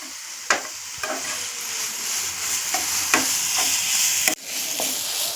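Grated carrot halwa cooks in generous ghee in a pan, a steady close sizzle with rhythmic spoon scrapes and knocks against the metal, and no talk.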